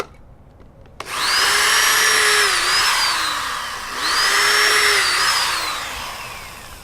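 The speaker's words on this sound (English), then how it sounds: "drilling some pilot holes in the slats" A power drill whines loudly through two long bursts, boring pilot holes in wooden slats from a repurposed compost container, the second burst following a brief dip in pitch.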